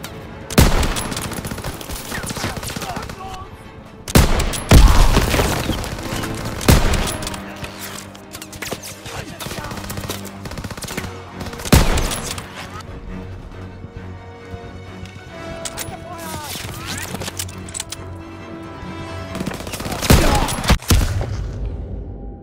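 Machine-gun fire and bursts of gunfire in the World War II shooter Call of Duty: WWII, loud rattling volleys recurring over a busy battle background, with booming impacts and no clear speech.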